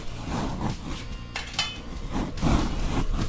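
Vegetables tipped into a pot for Gujarati undhiyu, several irregular clattering clinks and knocks of metal utensils and cookware, close and fairly loud over a few seconds.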